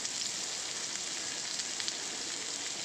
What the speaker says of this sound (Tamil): எண்ணெய் காஞ்சிருச்சு, சின்ன வெங்காயம் போடுறோம்.